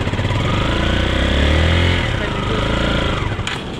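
A motorbike engine revs and pulls away in first gear during a beginner's riding lesson on a black sand beach in Bali, Indonesia. The engine drones loud and close, holding a steady roar for the whole stretch.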